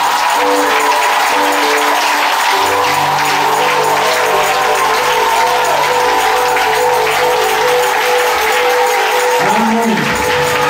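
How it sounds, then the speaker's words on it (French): A church congregation cheers and applauds the servants of God, a loud, continuous wash of clapping and crowd noise with sustained tonal layers running through it and no break. "est-ce qu'on peut acclamer les serviteurs de Dieu?"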